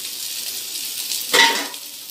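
Peas and potatoes fry in a pan while being stirred. A steady, close hiss of frying runs throughout, with a brief louder scrape of stirring near the end and no talk.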